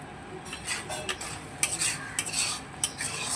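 A spoon scrapes and clinks against a pan while masala for doi katla fries with a soft sizzle, several distinct metallic knocks punctuating the stirring, close and without talk.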